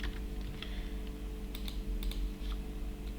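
Steady typing on a computer keyboard while entering C++ code, a close, continuous patter of key clicks with a few sharper strikes and no talking.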